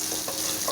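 Minced meat keema and vegetables fry in oil, a brief, even, close sizzle with faint stirring movement running through it.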